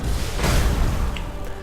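Bombardment cannons in a space fleet video game boom out in a heavy, rumbling blast with a whooshing swell, loud and close, fading into a low hum.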